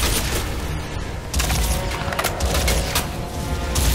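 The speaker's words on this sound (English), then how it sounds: "I can't believe how powerful this gun is." Heavy gunfire in the shooter game Crysis 2: loud, booming shots and bursts with splintering impacts, coming in clusters across a few seconds.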